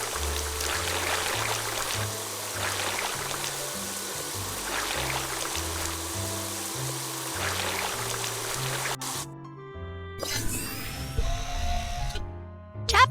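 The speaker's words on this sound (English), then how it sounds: "First, drag the water sprayer to rinse off the mud." In a cartoon fire truck washing game, a water sprayer hisses steadily as it rinses mud off the truck over a looping bouncy music track, ending in a few short splashy game effects.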